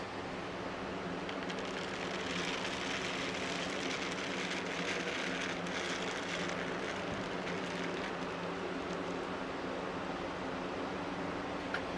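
Beekeeping pollen pours through a blower-style cleaner as a steady, dense rushing hiss of air and falling granules, continuous and even for the whole stretch with no talking.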